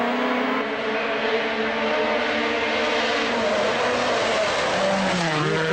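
Rally car drifting on a dirt track, engine roaring steadily at high revs with gear shifts and tire scrub, loud and close throughout with no pause.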